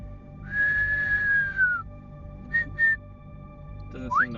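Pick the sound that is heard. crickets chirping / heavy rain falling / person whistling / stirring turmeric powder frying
person whistling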